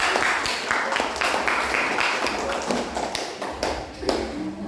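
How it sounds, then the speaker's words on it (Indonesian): Classroom group clapping for a student group returning to their places, a dense rattle of many hands with some individual sharp taps standing out, fairly close and steady throughout. "Kita tepuk tangan sekali lagi buat kelompok"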